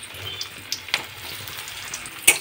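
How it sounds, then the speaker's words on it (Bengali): Jackfruit seed pakoras drop into a small amount of hot oil in a kadai on a gas stove, crackling and sizzling nearby with a few sharp pops and light stirring taps. "এইবারে কাঁঠালের বীজগুলো ছেড়ে দেব।"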